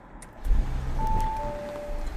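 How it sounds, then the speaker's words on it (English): An Audi or Porsche with a 48V system being tested after an alternator repair starts up nearby, giving a short cranking burst that settles into a soft, even idle. "Yep, car started."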